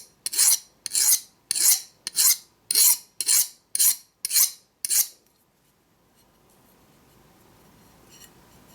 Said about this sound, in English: the file did get rid of that burr pretty easily